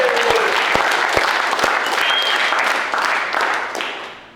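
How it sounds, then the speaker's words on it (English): Applause from a company all-team meeting audience, several sharp nearby claps standing out over a broad wash of clapping that gradually tapers off toward the end. "Aaron Lake, round of applause."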